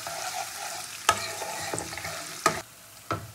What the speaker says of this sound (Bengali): দেবো আমি কাঁচা লঙ্কা কুচি। দিয়ে তেলের উপর ভালো করে নাড়িয়ে নেবো।